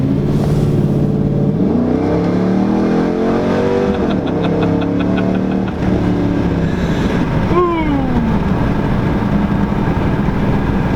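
A 2014 Dodge Charger R/T accelerates hard, its engine rising in pitch through quick gear changes, with several distinct upshifts and a loud, close roar building over the run.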